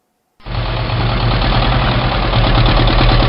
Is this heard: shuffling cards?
no